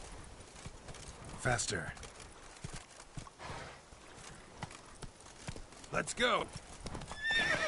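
Geralt's horse Roach gallops in The Witcher 3, hooves thudding in a quick rhythm with a few whinnies, while a person urges the horse on, talking over the hoofbeats.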